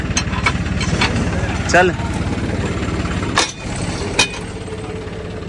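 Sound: John Deere 5310 tractor engine running

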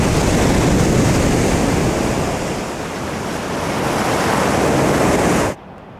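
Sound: ocean waves on a cliff coastline, Pacific Ocean

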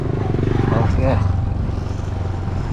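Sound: Honda Civic 2023 car engine running, driving off

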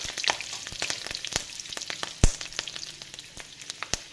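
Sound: garlic and chili frying in oil

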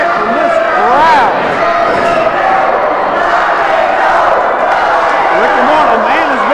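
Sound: wrestling crowd rock and roll chant

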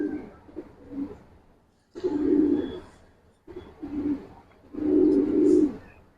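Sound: Giribaz and colored pigeons cooing

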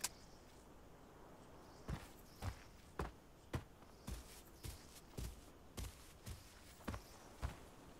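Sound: approaching footsteps in video game Arena Breakout

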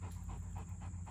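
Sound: dog panting while holding toy

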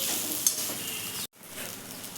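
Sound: idli being stirred and mixed in a pan

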